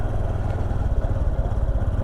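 A Honda Super Cub C125 motorcycle is being ridden on a highway commute, with a loud, steady low engine drone and rushing road and wind noise throughout.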